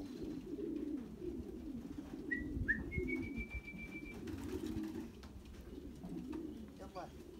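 Racing pigeons returning from a 143 km race coo in low, throaty rolling calls, fairly close, with a thin whistle or chirp briefly sounding above them.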